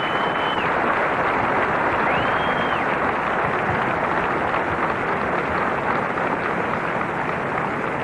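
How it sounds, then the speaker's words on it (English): Sustained audience applause for the judges at the Miss Universe 1994 preliminary presentation, a loud, steady wash of clapping from a large crowd filling the hall without pause. "Give them a round of applause for a job well done."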